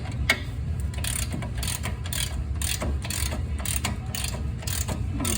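A ratchet wrench tightens the front strut bolts on a 2006 Honda Pilot, making quick, continuous metallic clicking close by over a low background hum, with no talking.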